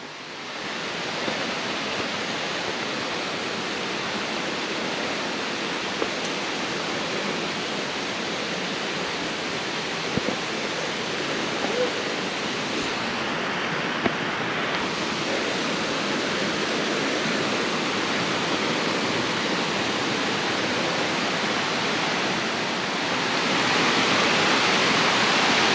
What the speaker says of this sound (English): this is some of the waterfall